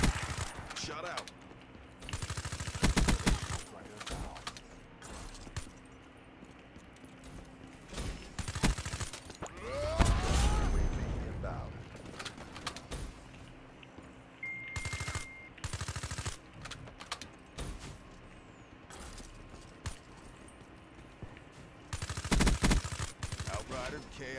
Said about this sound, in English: I got him with my last 5 bullets